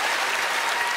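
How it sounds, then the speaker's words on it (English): A studio audience applauds in a dense, steady wash of clapping at a comedy show, loud and continuous with no voices over it. "give a massive round of applause to Phil from Big Fun"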